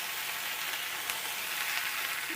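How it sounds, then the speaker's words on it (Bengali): Tomato stirred into onions frying in a pan for a fish curry with green banana, giving a steady soft sizzle with faint stirring scrapes and no voice. "টমেটো দেওয়ার পরে একটু নাড়চাড়া করে নেবো"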